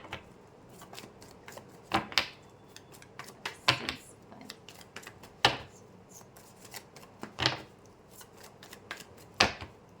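Tarot cards are shuffled and drawn by hand, giving soft irregular riffles, slides and sharp flicks and snaps as cards are pulled and laid down, close and fairly quiet.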